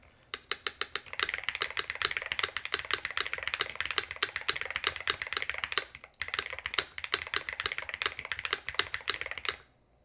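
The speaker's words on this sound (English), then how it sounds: "So that's pretty nice with the ABS spacebar, the GMK spacebar." Fast typing on a DrunkDeer a75 Ultra mechanical keyboard fitted with an ABS spacebar, a dense close-up stream of crisp key clacks in two bursts separated by a brief pause.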